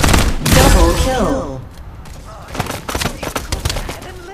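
A gunfire exchange in the video game Farlight 84: a dense opening burst of shots, then a series of sharp, rapid reports, with a game voice cutting in briefly.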